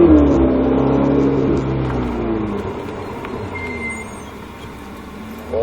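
A Ferrari 488 GTB accelerates on a track, its engine note loud and close, pitch climbing through the rev range before easing off, with no talk over it.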